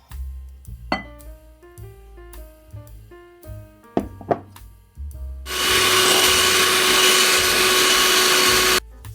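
An electric mixer whirs loudly and steadily as butter cake batter is mixed with powdered sugar, starting after several seconds of soft music notes and running for about three seconds before stopping abruptly.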